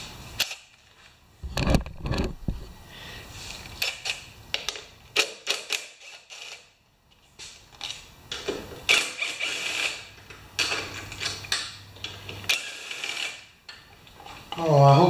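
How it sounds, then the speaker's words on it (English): Close, intermittent metallic clicks, ratcheting and tool clatter come from a carburetor being unbolted and pulled off a Honda HR216 lawn mower engine, in uneven bursts with quiet gaps between. "Let's get that carburetor off there"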